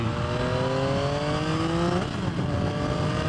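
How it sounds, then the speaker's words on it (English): A 2023 Yamaha XSR 900 motorcycle in power mode 3 gives a quick throttle blip while riding, its engine harmonics sweeping up and then dropping back. The sound is loud and close over steady wind and road noise. "And I just blipped the throttle"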